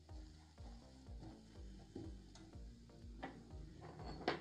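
Rajma masala with garam masala and other spices stirred in a pan over a low gas flame, with a steady quiet sizzle and repeated scraping strokes of the spoon in a regular rhythm, no voices.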